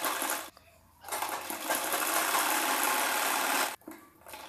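Close by, a sewing machine stitches a blouse seam from the underarm, with a short burst, a pause, then a steady whirring run of nearly three seconds before cutting off, followed by quieter handling sounds.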